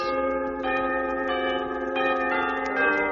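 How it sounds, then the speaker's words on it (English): Bells ring in an orchestra, sustained and overlapping chiming tones with fresh strikes about every second and a half, steady and fairly loud with no voices. "And some of the drummers played bells,"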